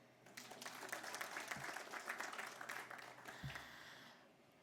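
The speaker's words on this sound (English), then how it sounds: "You should clap." Applause from an audience at a Kenyan women leaders' gathering on recent murders, a steady dense patter of many hands that swells, holds for about three seconds, then fades out.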